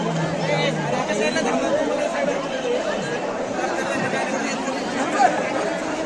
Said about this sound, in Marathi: अजून पण गर्दी आहेच, अजून पण गर्दी कमी झालेली नाहीये.